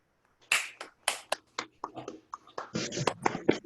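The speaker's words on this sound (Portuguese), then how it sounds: "eu sugiro, Giancarlo, uma salva de palmas coletivas para o Ramiro e para a família dele." A small group applauds at a meeting, giving sparse, distinct hand claps that start abruptly and grow denser and more overlapping toward the end, with quiet gaps between bursts.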